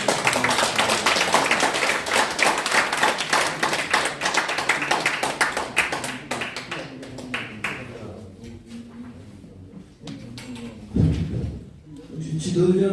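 Audience clapping at a lecture forum starts out brisk and dense, with sharp distinct claps, then thins out and fades after several seconds. Quieter room sounds and a voice follow as it dies away.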